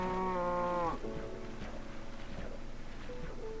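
Cattle moo in Minecraft, a long, loud, pitched bovine call in the first second, followed by a low ambient hum and a few fainter game sounds, with no talking.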